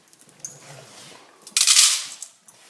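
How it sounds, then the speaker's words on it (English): Dry dog food is poured into bowls, with a few scattered light rattles followed by a louder, dense rush of kibble clattering into a bowl up close, then tapering off. "And I fill all these bowls"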